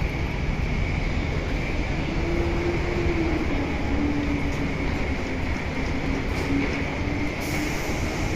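A Hiroshima streetcar bound for Ujina rumbles nearby, a steady low mechanical drone with a faint rising and falling motor whine and a constant hum running throughout.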